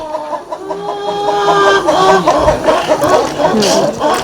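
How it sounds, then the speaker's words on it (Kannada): Chickens cluck nearby at a farm in short, repeated calls, with a few higher squawks mixed in over a busy background. "ಕೋಳಿ ಇರುವಂಥದ್ದು"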